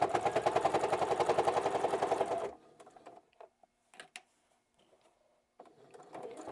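A sewing machine stitches along the bottom edge of a fabric book sleeve lining. Its fast, steady mechanical whir runs loud and close for a couple of seconds and then stops, leaving soft handling clicks and fabric rustling.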